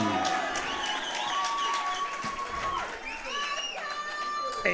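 Boxing fans cheering and shouting in an arena at a professional fight night, a sustained loud crowd roar with whoops and some voices mixed in.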